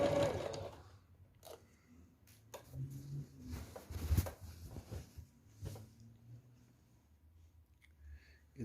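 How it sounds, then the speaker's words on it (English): A sewing machine back stitches quilt binding in short, faint bursts of whirring and needle clatter, separated by quiet pauses. "He's doing a back stitch to secure all of that."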